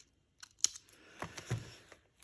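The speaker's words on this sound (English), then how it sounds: "And I'll just trim it." Scissors trim paper in a few crisp, close snips and slices, with short rustles between cuts, in an otherwise quiet room.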